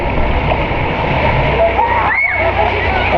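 Artificial waves from a powerful wave device in a pool at the Campuestohan Highland Resort, steady loud sloshing and rushing water close by, with a brief whooshing swell midway and a voice under it.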